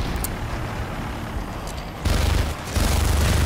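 MP412 revolver fire in a Modern Warfare 3 free-for-all match, loud booming shots and impacts that swell near the end over constant game noise.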